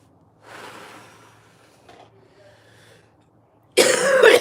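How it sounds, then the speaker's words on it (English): A person coughs with a softer throat-clearing rasp before it, then a loud, close burst of harsh coughing ends the sequence, with no talking. "I know I sniffle and cough and clear my throat all the time"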